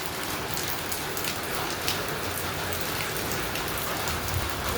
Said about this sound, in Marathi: आता पाऊस चालू झालेला आहे.